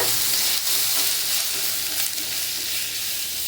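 Spices and chilli powder fry in oil for a tamarind curry with a dense, steady hiss and sizzle, close and loud throughout, with a few faint stirring scrapes.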